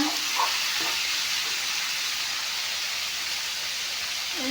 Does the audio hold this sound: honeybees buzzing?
no